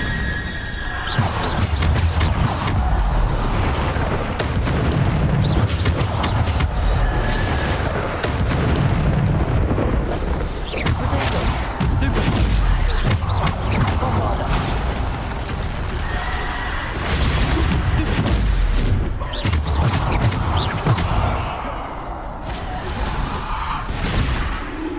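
Bombarda explosion spell in the Hogwarts Legacy video game, heavy booming blasts and rumbling combat effects going on continuously and loudly for the whole stretch, with no clear pauses.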